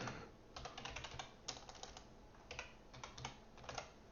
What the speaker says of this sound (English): this keyboard's really ticking me off here